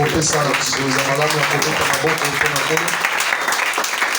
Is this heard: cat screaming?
no